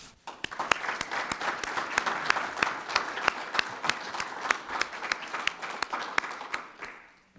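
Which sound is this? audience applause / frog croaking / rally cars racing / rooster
audience applause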